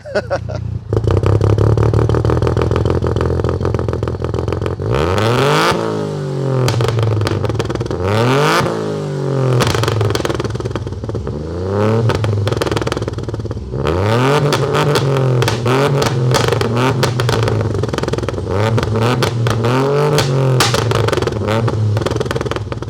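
Toyota GR Yaris three-cylinder with a sequential gearbox, tuned to 800 bhp, accelerating hard: a loud, raspy engine climbs through revs in repeated rising sweeps, each gear change cutting in sharply before the next pull, close and continuous.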